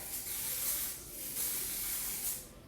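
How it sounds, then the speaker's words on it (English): Several close bursts of hairspray from an aerosol can, hissing in short pulses with brief pauses between them. "I'm gonna use this hairspray"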